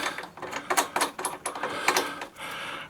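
A 12mm ratchet spanner clicks in quick uneven bursts while undoing an exhaust hanger bolt on a Triumph Speed Triple 1050 motorcycle, a close, sharp mechanical ratcheting with brief pauses between strokes.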